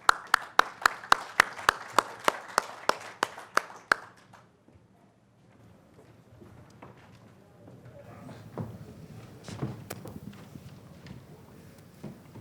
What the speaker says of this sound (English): if we could have a quick round of applause for our panelists